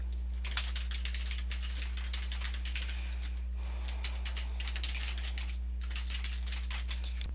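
Fingers tap steadily on a computer keyboard in quick, close bursts of clicks with a brief pause midway, all over a constant low electrical hum.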